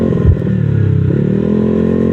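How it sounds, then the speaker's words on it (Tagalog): A noisy motorcycle engine throbs loud and close, a steady rough idle with a brief bump in revs near the start, heard alone on the road near a police checkpoint. "Ang ingay pa man din ng motor."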